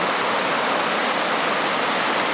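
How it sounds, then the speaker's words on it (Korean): Waterfall at Geumnyung Falls, the eleventh of the twelve falls on Seongchisan in Geumsan, South Chungcheong, a continuous, even roar of falling water heard up close and alone. "아, 위에서 본 폭포."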